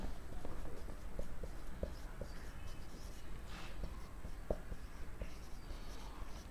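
Pen writing by hand on a board or paper during an embryology lecture, with soft scratchy strokes and small taps in a steady rhythm over a noisy room background.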